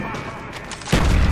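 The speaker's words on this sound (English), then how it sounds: "Mortar coordinates received. Firing for effect." Mortar strike in Call of Duty Black Ops multiplayer, a sudden loud burst of explosions hitting after a quieter stretch of distant rumbling.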